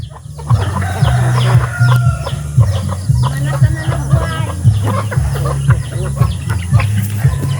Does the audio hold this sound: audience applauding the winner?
no